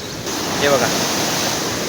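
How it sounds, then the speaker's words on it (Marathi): Water gushing through one of three open gates at Siddheshwar Dam in Maharashtra, a loud, continuous broadband roar with wind buffeting the microphone, steady from start to finish with no voices. "हे बघा किती खतरनाक पाणी पडत आहे बघा"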